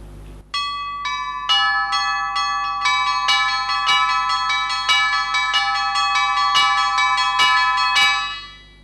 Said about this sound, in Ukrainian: Це три задзвонні маленькі які е, роблять е, тонкі звуки високі, високої частоти.